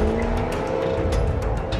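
A Jaguar F-Type sports car with a 495-horsepower supercharged engine and an 8-speed quick-shift gearbox drives hard, loud and close. A continuous engine roar is mixed with tire squeal and road noise.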